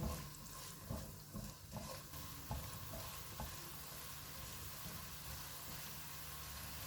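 Green and red chillies frying with boiled potatoes in a pan on low heat, giving a steady close sizzle with occasional stirring clicks and scrapes, no voices.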